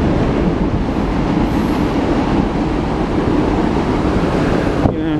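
Steady, loud rumble and clatter of an empty Norfolk Southern freight train rolling past close by, continuous throughout with no voices.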